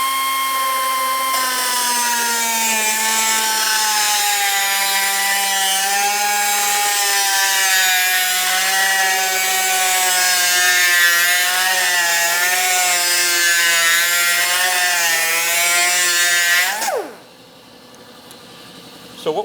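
Powered tool grinding carbide studs, a loud steady high-pitched whine with harmonic sweeps lasting about seventeen seconds, then an abrupt spin-down and near silence.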